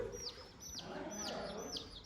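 Live baby chicks peep close by, giving about four evenly spaced, high, downward-sliding cheeps over a low, steady background rumble, with no talking.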